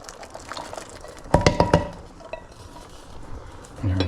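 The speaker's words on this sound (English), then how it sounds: "I'm going to add my drained can of organic black beans." A drained can of organic black beans tips into a pot of wild turkey chili, a quick cluster of four sharp metallic clanks and a wet slide over a low simmer, with no talk.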